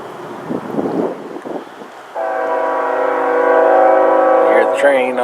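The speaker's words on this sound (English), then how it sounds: "You hear the train off in the distance." A train passes at a nature center, sounding a long, steady horn blast that holds for several seconds and then trails off, following a stretch of footsteps and outdoor rustling.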